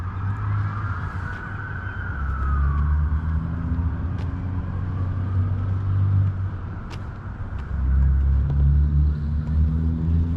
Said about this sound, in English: There goes the police. There's three police cars.